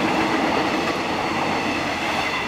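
A train passes close by with a loud, steady rumble and rattling wheel noise filling the whole stretch, continuous and dense with no voices audible over it.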